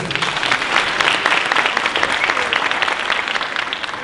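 A hackathon audience applauds steadily throughout, a dense, loud wash of clapping hands that holds its level from start to finish.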